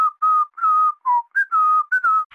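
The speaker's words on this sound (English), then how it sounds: "you'll actually be able to hear Imperial pilots whistling the Imperial March on the comms channel" Imperial pilots whistle the Imperial March over a comms channel in the Star Wars Battlefront video game, a clear, clean run of sustained whistled notes in a steady melodic rhythm, alone with no talk.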